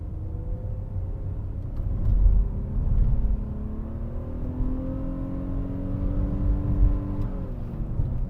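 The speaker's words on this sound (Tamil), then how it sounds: "வண்டி பிக்கப் வந்து வெறித்தனமாக இருக்குது ஏன்னா இது வந்து ஒரு வி சிக்ஸ் இன்ஜின் ஒரு ஆறு சிலிண்டர் இன்ஜின்" Nissan Teana sedan with a V6, six-cylinder engine accelerating hard in drive, its engine note climbing steadily in pitch as it pulls, a continuous close, fairly loud drone with no talking.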